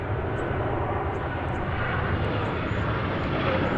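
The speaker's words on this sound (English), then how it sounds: "We've got a Dash 8 Dreamliner now headed out of the hangar" A Boeing 787 Dreamliner taxiing out of a hangar at Dallas Fort Worth Airport gives a steady, broad jet engine rumble that holds evenly throughout at moderate distance.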